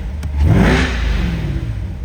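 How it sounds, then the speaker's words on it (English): A 2022 Corvette C8 convertible 2LT Z51 with its exhaust open gives a loud, throaty rev that swells and then settles back into a rumbling idle, close by. "let's give it a couple revs for you guys"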